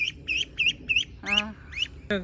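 A run of nasal duck quacks from young farm ducks, four evenly spaced calls then a couple of louder, rougher ones, close by over low background noise.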